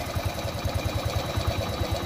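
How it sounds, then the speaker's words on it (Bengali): A Bajaj CT 100 motorcycle engine idles steadily, with a fast, even low thumping pulse running throughout at close range with no talk. "ইঞ্জিন সাউন্ড দেখুন"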